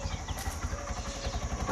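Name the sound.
motorcycle engine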